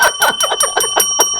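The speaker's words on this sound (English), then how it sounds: "Snedeker Nikki, rings the bell." A metal bell, like a bicycle bell, rung in a quick rapid series of about seven bright, loud dings close by, with no talking.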